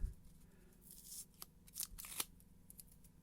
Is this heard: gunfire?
no